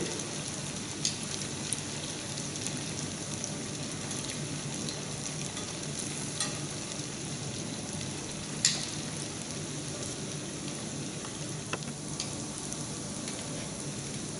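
Batches of dessert frying in a pan over moderated heat give a steady, even sizzle throughout, with a few faint pops and light clicks rising above the constant hiss.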